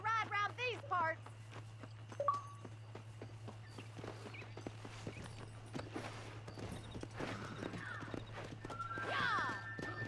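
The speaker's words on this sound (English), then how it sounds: "All right, horse race." A horse in a Red Dead Redemption horse race, whinnying at the start, then a rapid, continuous clip-clop of hooves over a steady low hum, with voices talking briefly.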